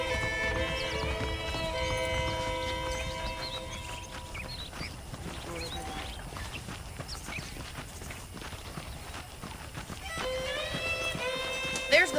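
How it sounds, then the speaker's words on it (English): Horse hooves clip-clop steadily in the Red Dead Redemption video game, a continuous walking rhythm heard beneath game music and ambient sound. "The horses are saddled up over here."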